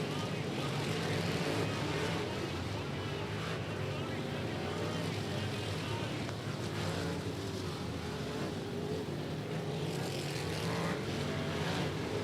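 Race cars lap in a figure 8 race at Indianapolis Speedrome, a faint, steady engine roar from a distance blended with crowd noise and indistinct voices.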